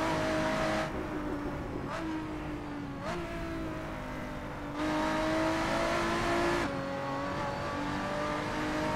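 Lotus 3-Eleven race car in the Assetto Corsa racing game at Bridgehampton, its engine revving hard and climbing through gears with several sharp shifts and brief lifts, loud and close throughout.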